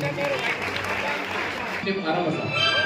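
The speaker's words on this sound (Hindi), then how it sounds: "भाभी जी के लिए जोरदार ताली बजा दीजिए" A crowd at a temple gathering applauds in a steady wash of clapping that runs through the whole stretch, with voices mixed in underneath.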